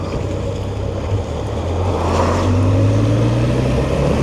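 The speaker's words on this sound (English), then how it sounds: "The engine has got so much torque." Suzuki GSX1400 motorcycle engine while riding, a steady low drone that rises in pitch as it accelerates, with wind rushing over the microphone.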